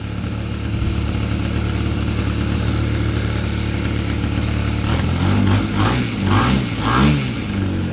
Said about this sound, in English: The prop makes more noise than the engine.